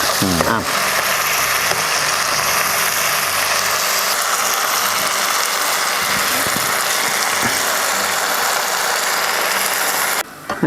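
Prawns fry in a hot pan with a steady, dense sizzle that runs loud and unbroken for about ten seconds, then cuts off briefly near the end.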